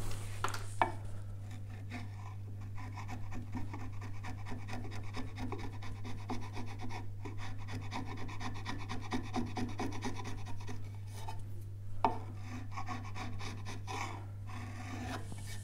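Hand cutting of the nut slot on a classical guitar neck, heard as steady rasping, filing strokes on wood, close and fairly quiet, with a few sharp knocks and no speech.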